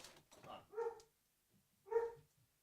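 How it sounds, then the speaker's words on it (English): A dog barks indoors at someone at the home's door, giving two separate loud barks about a second apart, with a short quieter sound between them and no talking. "what are we barking at?"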